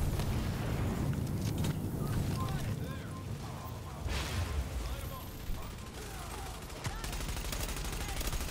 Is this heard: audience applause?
no